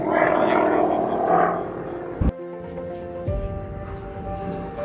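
An aircraft flies at the Duxford air show in Cambridge, a loud engine roar that fades, then a sharp bang followed by a steadier drone, with people talking faintly nearby.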